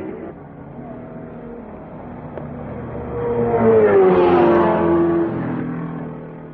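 Ferrari Formula One cars from 1961 race at the Monaco Grand Prix street circuit, with a snarling engine swelling loudly as a car passes close, then fading under a steady background hum.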